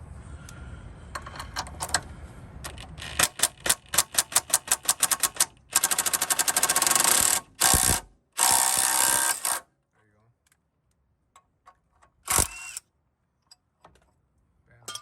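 Loud bursts of pneumatic power tools rattling and whirring in short and longer runs on the steering suspension of a 1992-99 Chevrolet Suburban, close by, with background noise before and silence between later bursts.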